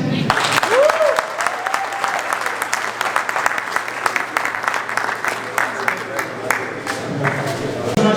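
An audience at the opening ceremony of the Squash Federation of Africa Seniors Championships 2022 applauds steadily for several seconds, a dense wash of clapping with cheers and a brief whistle near the start.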